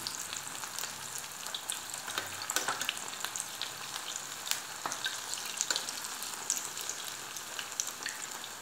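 Aloo bread cheese sticks frying in hot oil, a steady, close crackling sizzle with scattered sharp pops throughout, with no voices.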